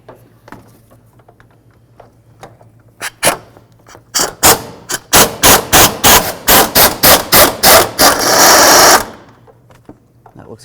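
A ratchet on a 10 mm swivel with extensions works a lower control arm bolt loose on a 1998-2012 Ford Crown Victoria, starting with a few isolated clicks before a rapid run of loud, evenly spaced ratcheting bursts that stops abruptly.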